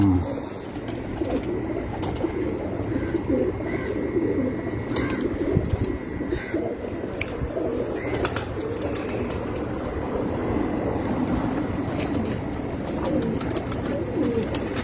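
Pigeons coo on a rooftop loft amid steady outdoor ambience, their low warbling calls recurring irregularly, with occasional wing flaps and light knocks nearby.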